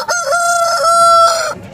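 A rooster crows at the Saturday chicken market in Annur, Kovai: one loud, close, drawn-out cock-a-doodle-doo lasting about a second and a half, heard on its own without any talk.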